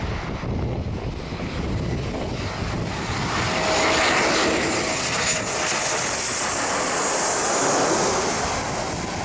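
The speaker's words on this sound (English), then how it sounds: "This Embraer 190 had to make an emergency landing without its nose gear." An Embraer 190 airliner landing in the Bahamas without its nose gear gives a steady, loud engine roar mixed with broad wind-like rush, swelling slightly midway and holding without voices.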